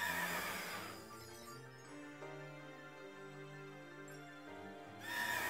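Spectrier, the Pokémon Shield horse Pokémon, gives a single game-styled neigh, a drawn-out tonal whinny rising and falling between bursts of brighter noise, with no voices.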